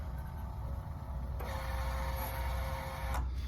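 A welding wire feed machine pulls wire through its gun when the trigger is pressed, a short mechanical motor whir starting abruptly and running for under two seconds over steady background hum.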